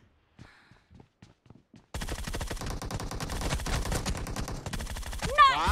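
Rapid bursts of gunfire from a shooter video game played on an emulator ring out loudly and continuously after a few quiet clicks, with a sharper sound near the end.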